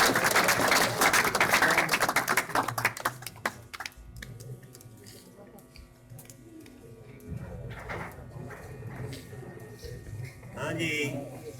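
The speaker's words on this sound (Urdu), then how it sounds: "پرزور تالیوں میں داد دیجیے گا" Audience applause for a prize winner at an academy's annual mathematics tournament ceremony, a loud burst of clapping for several seconds that fades out, followed by a quieter spell and a voice speaking.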